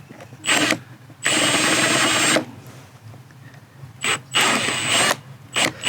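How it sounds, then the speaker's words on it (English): A power drill bores into the plastic rivet head on a Mercedes-Benz C250 interior door handle. It whines in four bursts, two long and two shorter, close and loud, with quiet gaps between. "We're just knocking off the head of that plastic."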